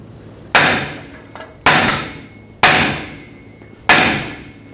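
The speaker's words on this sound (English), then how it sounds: "take a hammer, tap the knuckle right here to separate these two" Four sharp metallic hammer strikes on the steering knuckle of a Ford F-350 ring out about a second apart, each blow leaving a short ringing decay, with no talking.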